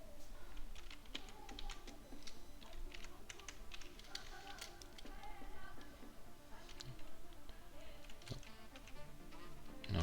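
Steady, close computer keyboard typing runs throughout, a dense stream of quick key taps and clicks at an even pace, with no talking over it.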